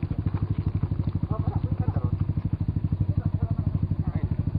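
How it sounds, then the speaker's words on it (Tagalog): A motorcycle engine runs steadily nearby with a fast, regular thumping beat and a clattery tone, holding at a near-constant pace throughout with faint voices in the background. "Maski na tong motor ni Anton kaya guba"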